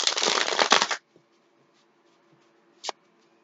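A deck of tarot cards is shuffled in one quick riffling burst of about a second, followed by near silence with a faint fan hum and a short card snap near the end.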